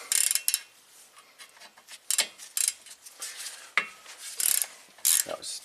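A hand ratchet clicks in short rapid bursts while loosening Torx 50 caliper bolts on a 1985 Oldsmobile, with sharp metallic ratcheting spurts and brief pauses between strokes, close and fairly loud.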